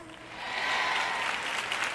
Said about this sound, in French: Vous applaudissez tous